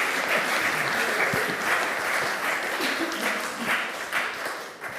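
Audience applause for a lecturer at the end of a talk, a sustained burst of many hands clapping in a hall that fills the room steadily before tapering slightly.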